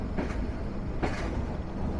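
The Padma Express passenger train rolls onward after a stop at Tangail station, with a steady low rumble inside the carriage and a couple of rhythmic rail clacks, no talking.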